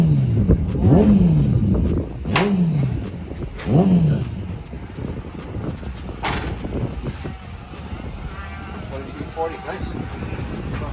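A turbocharged Honda Integra drag car revs up in a few rising engine sweeps, loud and close, then settles into a rougher idle while voices sound nearby.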